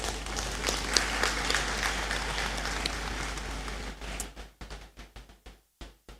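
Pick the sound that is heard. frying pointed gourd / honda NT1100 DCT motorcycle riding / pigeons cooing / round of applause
round of applause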